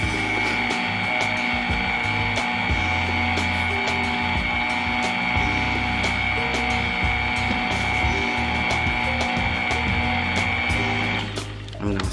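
An electric mixer whirs steadily as flour is mixed into pound cake batter, a constant close mechanical drone with faint rattling against the bowl that slows and stops near the end.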